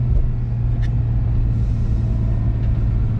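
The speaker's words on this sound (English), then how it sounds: "That's a run in an autocross." A Porsche GT3 on an autocross course gives a steady, loud engine rumble with a deep droning note that holds throughout, with no talk over it.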